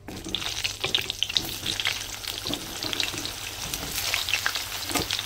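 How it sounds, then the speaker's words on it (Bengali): Pointed gourd pieces fry in oil left from frying potatoes, giving a continuous near sizzle with small crackles and pops throughout. "আর ওই আলু ভাজা তেলের মধ্যে দিয়ে দেবো পটলগুলো।"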